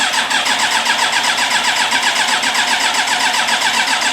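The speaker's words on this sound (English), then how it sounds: "Then we tried to start the bike again." A Yamaha YZF1000R Thunderace motorcycle with a freshly rebuilt engine being cranked over, a loud, steady, rapid churning of the starter and engine that continues unbroken without catching.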